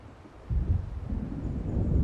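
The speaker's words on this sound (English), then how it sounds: "It seems there's a storm coming." Low, rumbling thunder from an approaching storm in the video game Alan Wake, swelling in suddenly after a quiet half second and rolling on as a heavy, distant-sounding drone with no speech.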